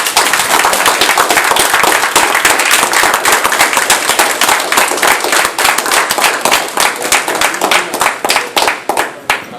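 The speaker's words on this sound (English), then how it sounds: "let's give the Most High and the Mashiach the best round of applause we can" Loud, close round of applause from a congregation, a dense crackle of many hands clapping continuously for nearly ten seconds, thinning slightly toward the end.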